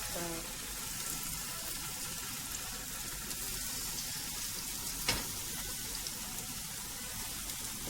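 Tofu frying in a pan at a home kitchen stove, a steady dense sizzle and crackle running the whole time with a brief clink midway, close and even.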